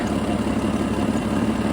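A Jeep XJ engine idles right after a fuel injector replacement, a close, continuous low rumble with a steady, slightly uneven pulse and no one speaking.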